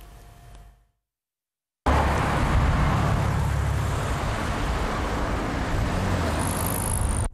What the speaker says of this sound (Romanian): Zeci de mașini de epocă au defilat timp de 2 ore în centrul capitalei